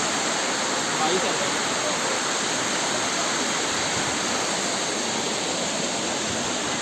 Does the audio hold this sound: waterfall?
yes